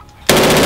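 An AR-15 rifle, loaded with a Hex Mag magazine, opens up in fully automatic fire, a sudden loud close burst of rapid shots that starts abruptly and is still going when it cuts off.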